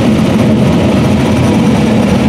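Caterpillar Lexion 570R combine with a Caterpillar C9 350 horsepower engine, a steady, loud low rumble droning evenly throughout without breaks.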